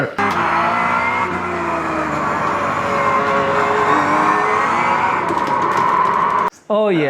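Car engine in a racing simulator game, a loud sustained drone with rising and falling pitch as it accelerates and shifts, then a brief cut-out near the end, with voices talking over it.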